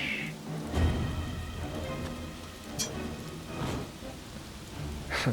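Lightning storm at a castle battlement in the Shadowgate video game, with steady rain hiss throughout and a rumble of thunder near the start, plus a few sharper crackles of lightning.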